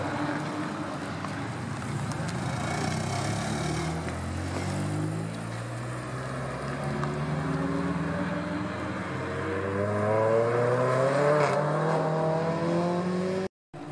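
A Renault Clio 3 RS accelerates away from the Magny-Cours circuit, its engine note rising through the gears in a steady climb, fairly close and loud, with wind noise and no talking.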